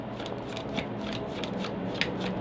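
Tarot and oracle card decks are shuffled by hand, a close, quiet series of rapid riffling flutters and soft slaps in an irregular rhythm.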